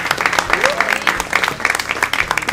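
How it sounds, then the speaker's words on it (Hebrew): Applause from an audience at a youth Zionist congress, greeting the Jezreel Valley Regional Council: a dense, steady patter of many hands clapping, moderately loud, with a voice faintly mixed in. "מחיאות כפיים"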